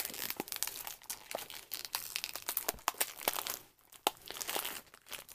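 Blind bag packaging for Shopkins World Vacation toys being cut open with scissors, giving close, irregular crinkling and crunching plastic bursts with brief pauses, heard alone.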